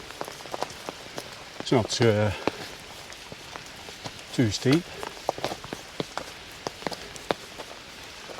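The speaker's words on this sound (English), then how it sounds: "The rain's coming down pretty heavy now though." Heavy rain falls steadily on a steep zigzag mountain hiking path near Hallstatt, a constant wash of drops with footsteps, while someone speaks briefly a couple of times.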